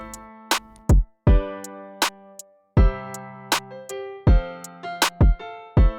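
A hip hop R&B beat programmed in FL Studio plays its snare drum sample inside a full pattern of punchy kicks, bright hi-hat ticks and sustained tonal chords, loud and rhythmic throughout.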